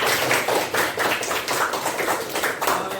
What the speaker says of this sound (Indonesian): kasih tepuk tangan untuk semangat kita